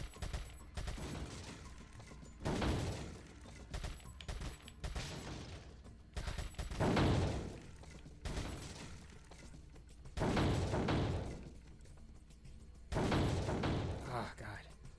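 Gunfire at shooting-gallery targets in Resident Evil 4, heard as several separated bursts of loud, rapid shots with metallic clanks and thuds between them, while someone talks over the action.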